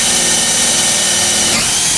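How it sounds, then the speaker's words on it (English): Loud, close power drill whirring steadily as it bores through hard epoxy, with a slight shift in pitch near the end. "The epoxy is very easy to drill."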